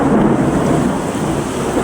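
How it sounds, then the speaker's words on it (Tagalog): Heavy thunderstorm with a loud, continuous low rumble of thunder under steady pouring rain, after a sudden downpour on a hot day. "Nakakatakot din yung kulog"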